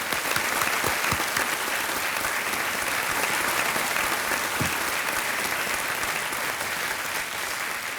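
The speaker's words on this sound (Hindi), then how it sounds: "तालियां बजते रहे" Studio audience on a TV quiz show clapping steadily for a contestant, a dense, even wash of applause that carries on throughout with no talk over it.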